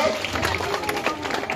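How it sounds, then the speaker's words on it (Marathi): An audience at a school prize-giving ceremony claps in a brief burst of dense applause, with voices mixed into the crowd noise. "चला सर्वांनी टाळ्या वाजवायच्या आहेत, गप्पा बसू नका, टाळ्यांचा गडगडाट झाला पाहिजे"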